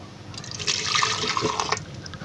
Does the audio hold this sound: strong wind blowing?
no